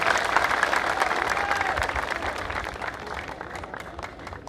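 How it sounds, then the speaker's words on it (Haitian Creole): Audience applause at a public address by Louis Farrakhan in Haiti, a dense sustained wash of clapping from a large crowd that gradually thins and fades toward the end. "On applaudit. On applaudit."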